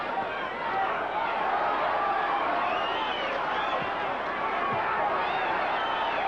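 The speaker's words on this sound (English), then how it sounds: "Crowd really into this fight now, and the crowd seems supportive of Weaver" A boxing arena crowd at the 1985 Pinklon Thomas vs Mike Weaver heavyweight fight, a steady roar of cheering and chatter that stays loud and dense throughout, with no pauses and no clear single voices standing out.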